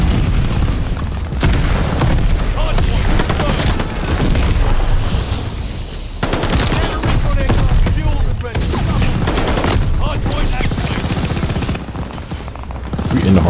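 Loud, dense gunfire and booming explosions from Call of Duty: Vanguard multiplayer with an MP40 submachine gun, near-continuous bursts with brief lulls, and voices talking over the action.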